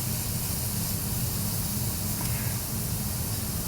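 Shrimp for Cajun shrimp pasta sizzle in a hot buttered pan, a steady, loud, unbroken hiss with no talking over it.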